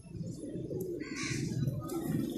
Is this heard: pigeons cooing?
yes